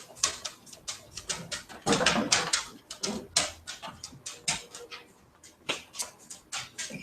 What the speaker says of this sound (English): The dog seems restless.